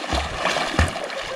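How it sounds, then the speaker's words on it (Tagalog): Water splashes from a person swimming in shallow sea water along a rough shoreline, with brief sloshing bursts and a stronger splash partway through, near and fairly loud, while voices talk in the background. "Anong langoy yan, Peng?"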